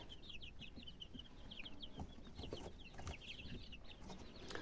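Hens and young chicks clucking and peeping in a farmyard, soft repeated high chirps over low scattered clucks, fairly faint and at a middle distance.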